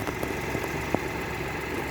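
A 2016 BMW 118i's 1.5-litre three-cylinder timing-chain engine idles with a steady, loud mechanical hum and one faint tick.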